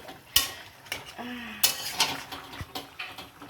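A metal spoon scrapes and knocks against a large pot of frying meat in uneven strokes, close up, with short clanks between stirs.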